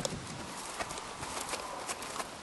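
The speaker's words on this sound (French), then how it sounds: "Le cheval volte dans la vibration" Horse circling on a lunge line in a round pen, its hooves giving soft, irregular clip-clop thuds at a walking pace, faint and fairly distant, with no talk over them.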